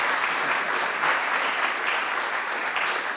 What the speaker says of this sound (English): can we have a big round of applause for Andrea, Mollie